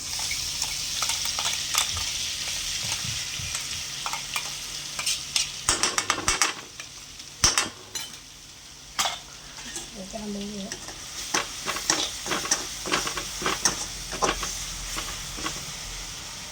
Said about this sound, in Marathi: पहिले आपण तेल टाकले त्याच्यात जिरे टाकले आता मोहरी टाकू थोड्या त्याच्यानंतर ह्याच्यामध्ये ना हिरवी मिरची आणि कोथिंबीर बारीक केली ती टाकून दिली